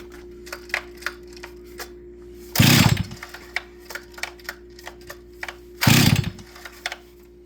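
A chainsaw is being started, with two loud bursts of the pull cord and the engine catching briefly, separated by sharp clicks and knocks from handling the saw close by.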